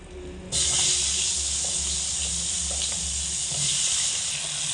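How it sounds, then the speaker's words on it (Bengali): Drumstick (sajna) pieces fry in hot oil left over from frying pointed gourd, a steady close, loud sizzling hiss that starts abruptly and holds without break. "একই তেলের মধ্যে দিয়ে ডাটার পিসগুলোকেও ভেজে নেব"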